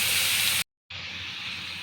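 Onion and garlic sizzle in a hot pan with a steady, bright hiss, broken by a short silent gap before the frying noise resumes.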